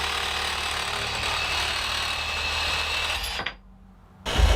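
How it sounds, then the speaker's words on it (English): A reciprocating saw cuts steel stock for a welded storm door bracket with a loud, steady rapid chatter, then stops abruptly near the end, followed by a brief clunk. "For the next cuts I need to make, I decided to try a reciprocating saw."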